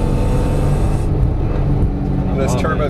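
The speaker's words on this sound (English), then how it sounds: "Those turbos kick in." A Porsche 911 Turbo S with its turbos kicking in on a coned driving course, a loud, steady engine roar heard from inside the car, with a voice joining near the end.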